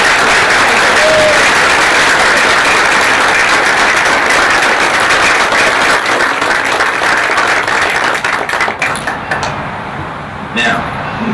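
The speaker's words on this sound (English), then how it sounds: "I would like everybody here to give the council a great big round of applause." Audience applause for a city council at an outdoor horse farm ceremony, loud sustained clapping that thins toward the end with a few knocks and voices.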